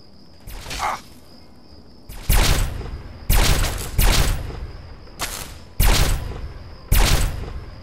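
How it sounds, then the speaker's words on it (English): Plasma gun fire in Fallout 3, sounding as about six sharp, loud bursts spaced roughly a second apart, each with a crackling energy tail, over a steady high electronic hum. "He's got a plasma gun."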